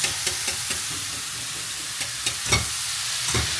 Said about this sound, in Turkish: Önceden hazırladığımız beşamel soslarımızı karıştırıp karıştırıp karıştırıp karıştırıyoruz